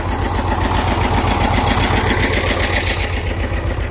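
A T-25A tractor with a cab idles close by during ploughing, a loud, steady diesel chugging with a fast, even rhythmic knock and no voices.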